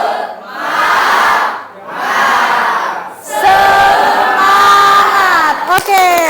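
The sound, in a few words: class doing the tepuk semangat clapping chant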